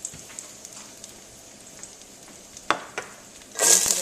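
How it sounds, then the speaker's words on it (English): Shallots frying in a pan nearby, a soft, steady sizzle with scattered pops that swells louder near the end, with no voices. "the sizzling that you hear is actually from a different pan where I'm trying to fry up some shallots"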